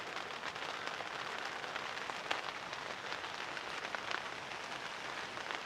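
Steady rain patters on a tent set up at a campsite during a light rainstorm, a dense, even hiss of drops with occasional louder taps, close by and continuous with no voices.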